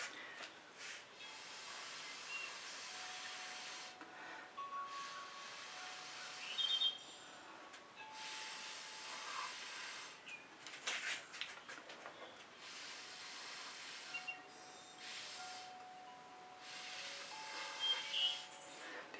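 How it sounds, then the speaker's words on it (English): Breath blown through a straw pushes fluid acrylic paint across a surface, making repeated close, airy hissing puffs, each lasting a couple of seconds and separated by short pauses, with faint chirpy squeaks. "I kind of want to use my straw to blow out this spot over here."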